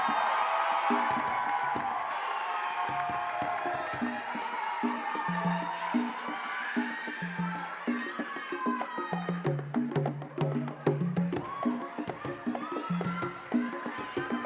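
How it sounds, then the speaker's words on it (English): Crowd cheering and whooping with scattered clapping for a graduating class at a university Kente ceremony, loud and continuous throughout, with voices calling out over a steady drum-like rhythm. "let's give another round of applause for the class of 2025"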